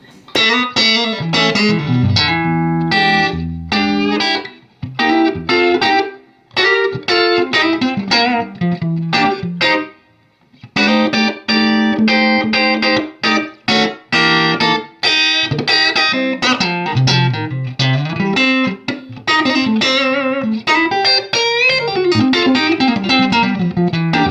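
Clean electric guitar plays chords and single-note lines through an amp with reverb down and no effects, steady and fairly loud with brief pauses between phrases.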